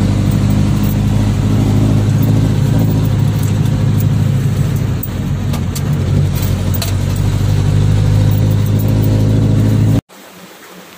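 Loud, steady rumble of a jeepney's engine as it carries a load of passengers along Road 2, droning constantly and close up, with small swells, then abruptly cut off near the end; no speech.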